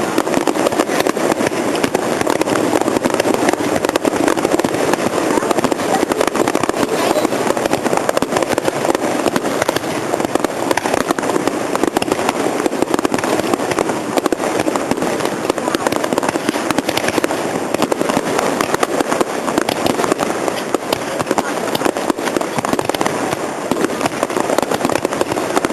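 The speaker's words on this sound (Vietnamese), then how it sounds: "Cái pháo đẹp không? Nó té vào đầu này nở ra một hình khác đẹp không?" A Tết 2011 fireworks display bursts continuously, with dense crackling and popping explosions sustained at high volume throughout, while people talk intermittently underneath.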